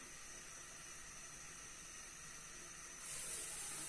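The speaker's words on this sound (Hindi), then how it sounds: "लहसुन को हमने हल्का सा फ्राई कर लिया है" A tablespoon of chopped garlic fries lightly in warm ghee, giving a faint, steady sizzling hiss that holds evenly throughout and swells slightly near the end, with no talking.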